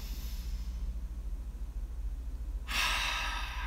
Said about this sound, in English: just closing your eyes and just taking a deep inhale.